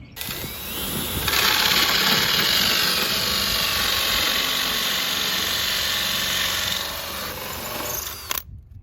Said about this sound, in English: Okay, got a few more puck lights to drill.